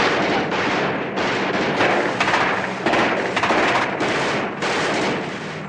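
Rapid gunfire from a boat's guns during a TV-show naval battle: continuous loud, dense bursts of automatic firing with short gaps between volleys, filling the whole stretch with almost no talk.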